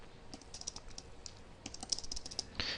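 Keys clacking on a computer keyboard in irregular quick bursts, moderately close and fairly quiet, ending with a brighter keystroke or click.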